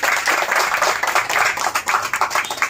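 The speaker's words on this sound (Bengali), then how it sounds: "হাততালি দেন, হাততালি দেন।" An audience at a political reception in Ramganj claps loudly and steadily, a dense patter of many hands close by that lasts the whole moment.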